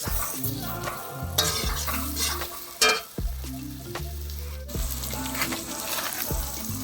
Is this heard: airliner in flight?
no